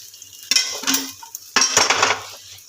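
A spoon scrapes and clinks through ground spices frying in oil in a pan for a Bengali pointed gourd and prawn curry, in two distinct stirring strokes over a low steady sizzle.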